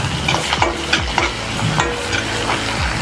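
Boiled chickpeas are stirred through in a frying pan, giving a close, continuous sizzle broken by repeated scraping and clacking strokes of a spoon, with no talk.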